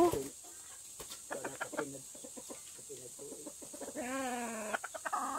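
Native chickens cluck nearby in short bursts, with a longer rising cackle toward the end, over quiet background hiss.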